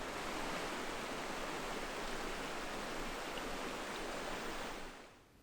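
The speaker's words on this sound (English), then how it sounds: "get some rest by the sound of a running river" Running river beside a camp spot in the Romanian backcountry, a steady, full rush of water close by that holds constant before dropping away at the end.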